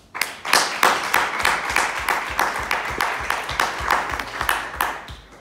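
Audience applause at a French round-table event, a dense steady patter of many hands clapping close by, sustained throughout at an even level with no talk over it.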